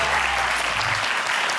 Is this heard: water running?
no